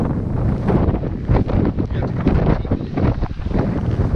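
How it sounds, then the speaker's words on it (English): Strong wind gusting across a mountain trail batters the microphone in a loud, steady roar with rumbling buffets throughout, close and dominant. "Wind coming through the mountains."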